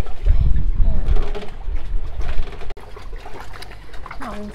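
Moored boat in port tossed by waves from an arriving ferry, with a light breeze; water sloshes and splashes against the hull with knocks and creaks, loud and close, ending in a sharp thud.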